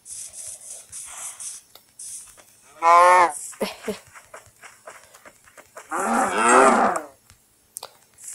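A Minecraft cow moos twice, long and loud, over a steady high hiss and scattered clicks in the background.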